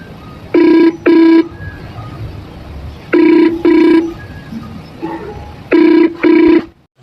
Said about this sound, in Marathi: बिल जाता आहे पण फोन नाही उचलून राहिले